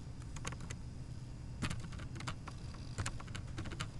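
Typing on a computer keyboard with quick irregular key clicks, in short bursts over a low background hum, close and moderately quiet, no speech.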